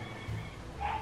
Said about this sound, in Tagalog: Meron na namang tuta.